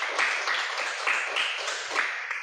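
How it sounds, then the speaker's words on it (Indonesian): A classroom of students claps for a classmate after a group discussion, a steady patter of many hands sustained for a couple of seconds at moderate loudness with no voices over it. "tepuk tangan dulu untuk teman kita yang tadi ya"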